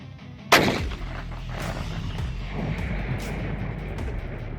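A single artillery gun fires with one sharp, loud blast, then a long rolling echo and rumble tails off as the sound carries across open ground.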